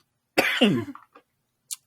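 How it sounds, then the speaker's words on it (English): A sharp, harsh cough burst followed by a couple of smaller rasping coughs, then a brief faint sound; close and fairly loud. "As I die here coughing."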